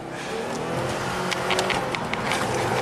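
2020 Subaru WRX turbo engine spooling up on a test drive, a steady rising engine drone with road noise from inside the car, brief higher whooshes and clicks over it, fairly loud and continuous.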